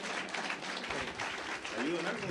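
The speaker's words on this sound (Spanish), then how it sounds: "Denle un aplauso al Señor por la vida de él." A church congregation applauds during a worship service, a steady wash of clapping from a crowd that continues under voices.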